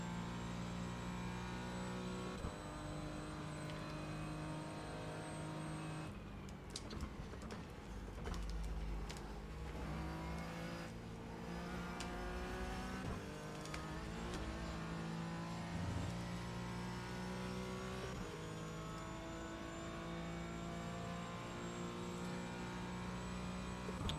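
A Porsche 718 GT4 races around Monza in the iRacing sim, its engine a steady mid-level drone with shifting pitch through gear changes and acceleration, with no talk over it.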